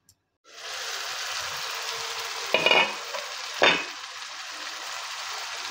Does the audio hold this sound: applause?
no